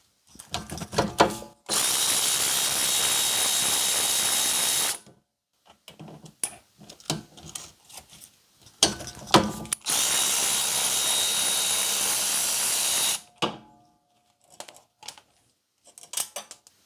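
Power tool loosening the 12 mm rear brake caliper bolts on an Acura TSX, heard close up as two long, steady whirring bursts separated by a pause with scattered clicks and clatter.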